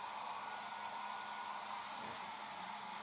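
A hair dryer blows steadily and loudly throughout, a constant close whooshing roar used to dry damp clothes, with no voices.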